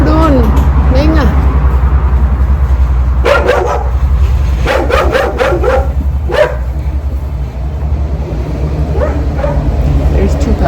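Two puppies in Mexico barking and yipping in short bursts, fairly close, with whimpers between, over a constant low hum and background chatter.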